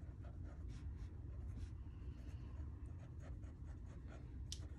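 A pen scratches across paper in a few light, intermittent strokes while budget amounts are jotted down for cash envelopes and sinking funds, faint and close over a steady low hum.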